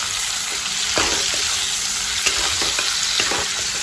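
Onions fry loud and close in a pan, softening for a Bengali banana-flower and prawn dish. The sizzle is a continuous hiss with scattered pops and light stirring clicks, and there is no talking.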